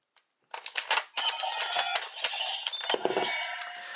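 The Telemaga version of the Arc Cube toy activates with a mechanical clatter and then plays bright, dense electronic sound effects that continue for several seconds, close and alone.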